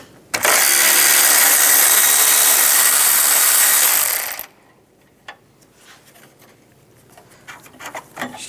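A 13mm socket ratchet loosening bolts on a 2015-2020 Cadillac Escalade hood release, a loud continuous burst of rapid ratcheting clicks for about four seconds, then faint scattered clicks and handling noises.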